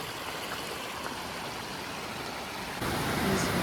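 A milky, sediment-laden glacier-fed river flows with a steady, dense rushing wash, continuous and fairly close, swelling slightly louder toward the end.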